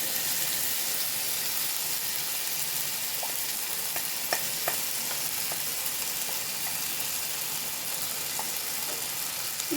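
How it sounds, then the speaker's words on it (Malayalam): Jackfruit pieces fry in hot ghee with a loud, steady, close sizzling hiss, with a few faint clicks of stirring along the way. "ചക്കയെ നെയ്യിലേക്ക് ഇട്ട് കൊടുക്കും."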